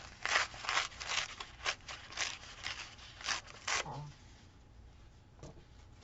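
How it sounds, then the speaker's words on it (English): Paper for a journal page is torn in a series of short, quiet rips and crinkles, several bursts in close succession before fading to near silence. "I'll just tear it a little bit so it's not as thick"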